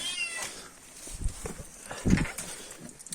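A mischievous cat meows a couple of times on a village farm among straw bales, brief cries standing out over faint rustling and footsteps nearby.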